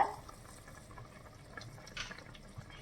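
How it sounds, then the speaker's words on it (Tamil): Water coming to a boil in a cooking pot for vegetable biryani, made without a pressure cooker, gives a steady low bubbling and gurgling with a few louder splashy pops, close by and alone. "இப்போ பார்த்தீங்கன்னா தண்ணி நல்லா கொதிக்க ஆரம்பிச்சிருச்சு"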